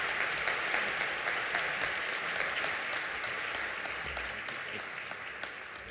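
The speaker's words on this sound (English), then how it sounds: "Please join me in applauding Elise as this year's Jenna Award recipient." Steady audience applause at an awards presentation, a dense, even wash of clapping that holds for the whole stretch and eases slightly toward the end, with no voices standing out.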